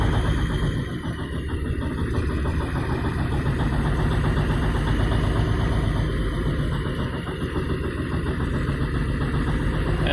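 A truck engine idles steadily with a misfire, the low rough rumble continuous and close for the whole stretch, with a slight uneven stumble in its rhythm and no talking.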